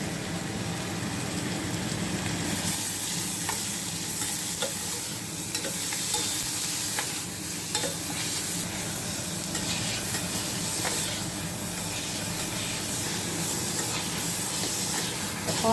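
Onions frying in oil with fenugreek seeds for menthulu pulusu, stirred in a pan: a steady, close sizzle and hiss with scattered scraping stir clicks throughout, no voices.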